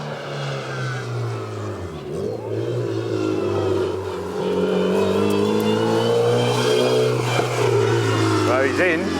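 A 1000bhp Ariel Atom drives on a race track, its engine holding a steady droning tone that rises into a higher rev toward the end, heard from nearby under ongoing conversation.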